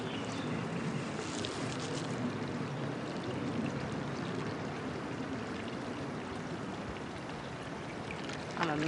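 Water from a stream is poured into a filter outdoors, a steady, close, full-bodied splashing pour that runs unbroken for several seconds with no talk.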